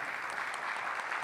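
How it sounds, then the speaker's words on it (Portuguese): Applause from an audience at a memorial ceremony, a soft, steady wash of clapping from a seated crowd lasting a moment. "Senhoras e senhores, uma salva de palmas neste momento."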